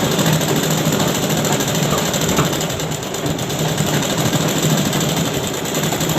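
A sewing machine stitching a pant pocket hums and whirs continuously at close range, a loud steady mechanical drone without pauses.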